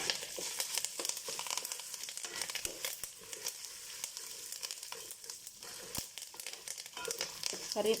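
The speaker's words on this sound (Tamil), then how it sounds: "கறிவேப்பிலையில் இருக்கிற ஈரப்பதம் போகிற வரைக்கும் ஃப்ரை பண்ணுங்கள்" Fresh washed curry leaves frying in a pan of oil, a steady close crackling sizzle with bursts of popping and faint stirring, quiet and continuous throughout.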